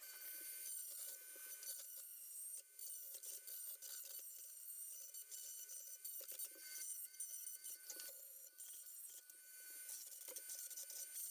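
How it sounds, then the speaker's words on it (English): A Dremel rotary tool grinds away a corner of a plastic Bruder toy Jeep chassis with a faint, close, high-pitched rasping whir that wavers continuously as the bit bites in and lifts off. "Again, I'll use the Dremel."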